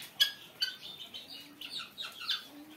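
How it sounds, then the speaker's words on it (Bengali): Quail on a farm give a few short, faint chirps and squawks at close range, scattered irregular calls against a quiet background with no talk. "এই যে কোয়েল পাখি"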